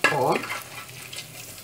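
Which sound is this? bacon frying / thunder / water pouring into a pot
bacon frying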